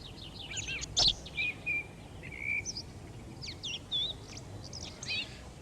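A house sparrow sings in a series of short, bright chirps and whistled notes, fairly close, over a faint background hiss with one sharp click.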